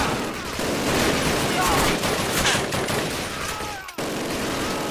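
Sustained suppressing machine gun fire in a Call of Duty campaign battle, dense rapid bursts blending into a continuous loud fusillade, with a brief dropout near the end before the firing resumes.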